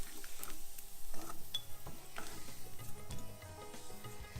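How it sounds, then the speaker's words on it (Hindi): Broad bean (sem phalli) chips frying in hot oil over a lowered flame, a steady close crackling sizzle with scattered sharper pops and light clinks throughout, no talking. "हमारा तेल गर्म हो चुका है, हमने आंच थोड़ी धीमी कर दी है। अब हम 1-2 चिप्स डाल के देखेंगे"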